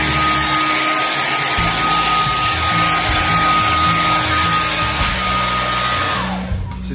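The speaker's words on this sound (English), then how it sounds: "Just something about blow dryer on high that," A blow dryer runs on its high setting with a loud, steady whir that holds through the whole stretch, tapering off near the end, with no talking over it.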